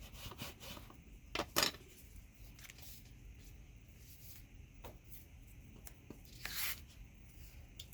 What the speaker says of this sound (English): I'm just burnishing it down so I can have easier lift